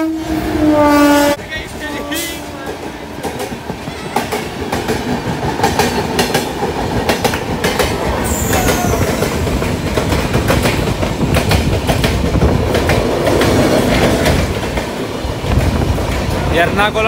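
A MEMU passenger train on the Rajahmundry to Bhimavaram line runs along the rails: a horn blast at the start, then a loud, steady rumble with rhythmic clickety-clack of wheels.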